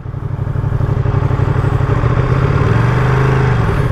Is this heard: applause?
no